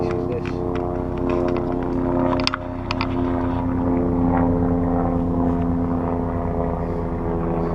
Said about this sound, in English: Hear the plane above me.